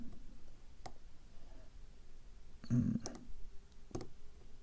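Lock pins clicking as a picking tool works a GeGe lock with a tight, crazy keyway, giving a few faint, sparse, close clicks over a quiet background.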